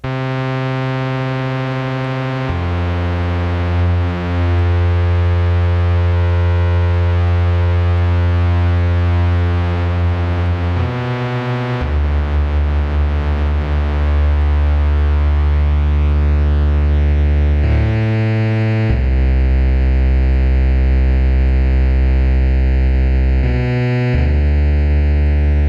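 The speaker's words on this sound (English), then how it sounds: "Okay, that is our chorus" Mai Tai synth oscillators in Studio One with chorus applied play sustained, buzzy, harmonically rich tones that shift pitch every few seconds, with a wavering, thickened shimmer throughout and no voices.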